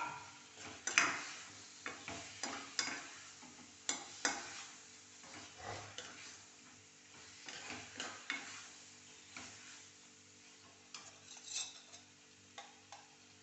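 Diced potatoes frying in a pan for a potato masala curry, with a soft background sizzle broken by repeated scraping, clicking stirs at an uneven rhythm, fairly quiet and close.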